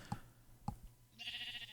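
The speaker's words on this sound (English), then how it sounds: "You're just a mountain sheep now." A faint sheep bleats in Minecraft from a mountaintop, a couple of short soft calls followed by a higher brief sound, quiet overall with no talking.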